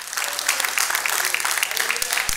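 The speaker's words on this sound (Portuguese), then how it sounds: "Então dá uma salva de palmas ao Senhor." A church congregation claps for the Lord during a Portuguese-language sermon, a dense, even roar of many hands sustained throughout, with faint voices mixed in.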